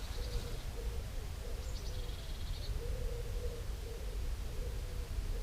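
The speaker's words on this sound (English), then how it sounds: "Birds are singing." Birds calling beside a river on a fishing outing, faint chirps and cooing-like notes drifting over steady background noise, moderately distant, with no speech.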